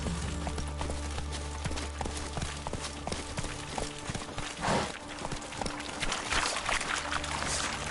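Roach, a horse in a video game, gallops in a rapid, even clip-clop of hooves that carries on the whole time, with a brief louder burst midway and faint game background beneath.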